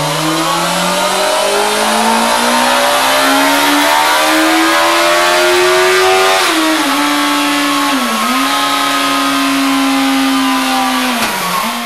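A Yamaha R1 sports motorcycle engine revving hard and loud, its pitch climbing steadily, then dipping briefly at gear changes before rising again, up close and sustained for about twelve seconds, with no talking.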